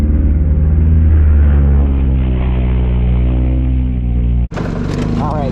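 A midget race car engine runs on a track at high revs with a loud, steady buzzing drone. It cuts off abruptly near the end, and a different, brighter engine sound follows.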